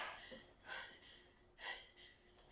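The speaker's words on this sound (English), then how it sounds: "Heavy breathing." Slow, heavy breaths from the Star Wars Episode IX teaser trailer, each inhale and exhale drawn out and airy, several in a row, fairly quiet and close.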